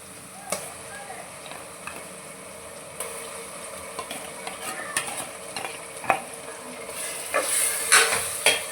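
Ginger garlic paste frying with onions in a pan for chicken biryani, a close crackling sizzle broken by scraping stirs and clinks of a spoon, growing busier and louder toward the end.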